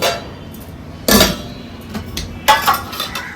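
A metal lid clanks onto a cooking pot of fresh vegetables, two sharp loud clatters with ringing rattle, close by in a quiet kitchen.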